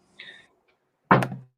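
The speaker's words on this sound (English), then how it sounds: "Sound like someone banged on your door." A single loud thud of someone banging on a door, following a brief faint higher sound, close and abrupt with a short decay, otherwise quiet.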